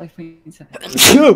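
A man sneezes once, loudly and close, during a casual online gaming session, with a burst of noise and a voiced tail, after brief talk.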